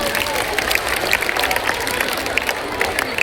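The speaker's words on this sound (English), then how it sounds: "a big round of applause for our talented singers from Class 11" Audience applause for student singers at a school Teachers' Day celebration: a steady, dense wash of clapping from a large crowd in a hall, sustained throughout with faint cheering mixed in.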